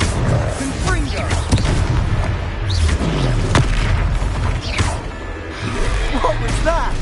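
Explosive spell blasts in the Hogwarts Legacy video game, a few heavy booms among combat effects and background music, with voices talking in between.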